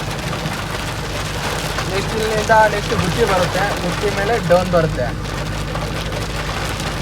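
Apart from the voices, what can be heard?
heavy rain falling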